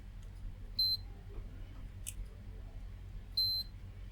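A multimeter sounds two short, high continuity beeps a few seconds apart, each one clear against faint background hum, during a test on a diode that reads short in both directions on an industrial pergola controller board.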